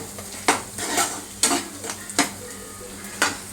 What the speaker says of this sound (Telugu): చూసుకుంటూ చూసుకుంటూ మనం తిప్పుకోవాలి ఉల్లిగడ్డ టమాటా పచ్చిమిర్చి అలాగే అల్లం వెల్లుల్లి